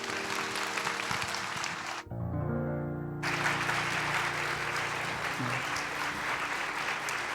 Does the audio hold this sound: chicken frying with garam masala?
no